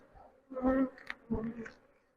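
Honey bees buzzing as they are brushed off hive frames one by one while honey supers are removed for harvest; two close, swelling bursts of buzzing rise and fade.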